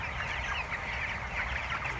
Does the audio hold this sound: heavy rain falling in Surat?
no